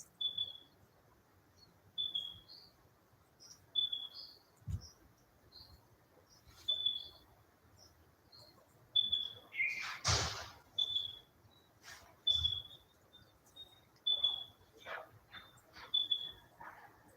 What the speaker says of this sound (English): So here I have an abundance of birds around me.